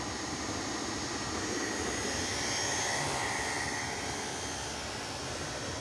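A high-power waste oil burner for melting cast iron roars as a continuous loud, steady rushing blast with a deep rumbling body and hissing top, unbroken throughout with no voices.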